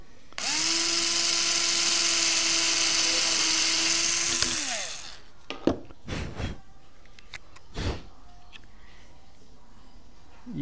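Power drill boring screw holes for a bookshelf, whining steadily at high speed for about four seconds, then winding down, followed by a few scattered knocks and handling noises.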